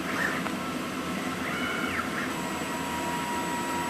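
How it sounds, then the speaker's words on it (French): A laser engraver starting a raster engraving job for Saint Patrick's Day coasters, giving off a steady mechanical hum and whir with faint motor sweeps, continuous and even at moderate volume. "Je n'ai appuyé que sur Start et l'ensemble du laser démarre"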